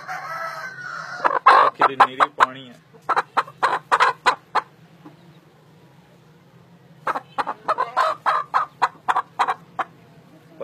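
Bursts of rapid, rhythmic clucking and crowing from Aseel chickens and a rooster come close by, separated by short quiet pauses, with a few brief words spoken early.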